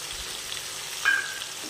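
Ginger garlic paste frying with softened tomatoes for a chicken ghugni, a steady low sizzle with a brief louder hiss near the end as it is stirred in the pan.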